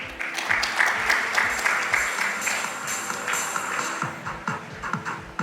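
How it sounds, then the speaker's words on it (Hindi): An audience at a corporate award night in Surat breaks into applause. Lively clapping rises and continues, mixed with faint voices and shuffling in the room. "जोरदार तालियां बजती रहनी चाहिए आपकी।"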